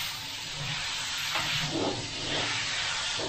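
A Creos 290 airbrush sprays in a steady, close, loud hiss that swells and eases slightly as the trigger is feathered, with no talking.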